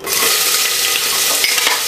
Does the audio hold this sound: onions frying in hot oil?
yes